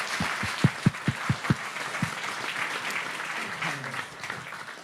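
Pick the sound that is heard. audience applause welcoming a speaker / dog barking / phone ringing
audience applause welcoming a speaker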